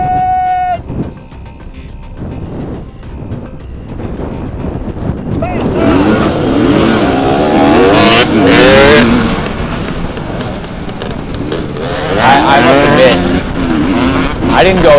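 Race cars in the TORCS racing game scream past with rising and falling engine whines. The revs climb and shift through gears and several cars overlap, while a voice talks over the game audio.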